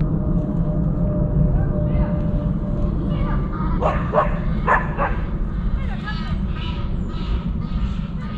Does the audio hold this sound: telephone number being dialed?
no